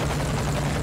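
A helicopter arrives in Metal Gear Solid V, a brief dense wash of rotor and engine noise, loud and steady, with no voices.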